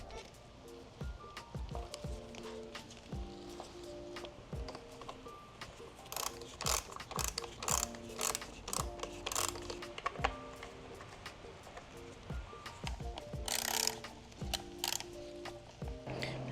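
Ratchet clicks in quick bursts as a motorcycle air filter is unbolted, close and fairly loud, with clinks of tools and parts between the runs and no speech.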